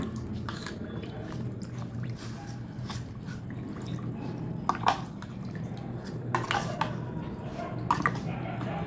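Two cups of water being stirred into rava dosa batter in a bowl, giving soft, wet squishing and dripping sounds with an occasional light utensil clink. The mixing stays fairly quiet and steady throughout.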